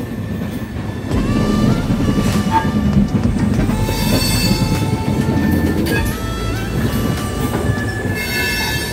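Trains rolling through Howrah station alongside the Howrah Dehradun Yog Nagari Express, a loud continuous rumble of wheels on rails with metallic squeals and rattling carriages, close and without talk.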